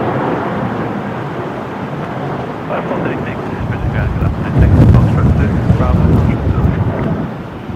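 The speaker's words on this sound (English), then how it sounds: "The wind picking up my lens hoods on the camera as soon as I face into the wind" Strong gusting wind buffeting a camera and its lens hoods at Brisbane Airport, a loud continuous low rumble that swells louder midway, with voices faintly audible underneath.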